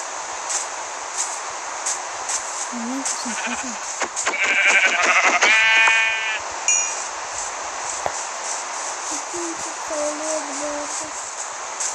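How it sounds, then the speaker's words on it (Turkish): Sheep bleating in the Minecraft video game, with a few short synthetic bleats at low level over a steady game backdrop, joined by clicks and busy block-placing noises in the middle. "Bir tane buldum koyun."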